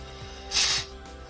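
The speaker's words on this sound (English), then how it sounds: "when you release the pressure, you can see how it gases up" A homemade elderflower champagne bottle fizzes as its pressure is released, giving one loud, close, sharp hiss of gas that rises quickly, holds for about a quarter second and then dies away.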